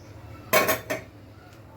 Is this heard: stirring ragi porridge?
yes